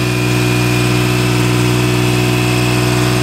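The pony motor on a forestry bucket truck idles close by in a loud, steady, even hum with a constant vibrating tone throughout.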